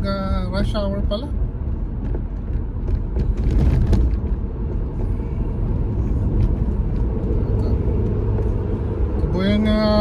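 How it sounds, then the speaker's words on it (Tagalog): Steady rush-hour road traffic rumble in Hillcrest with passing car engines, a bus-like low drone and scattered horn-like tones, fairly loud and continuous throughout. "Traffic dito sa lugar na to pag rush hour pala."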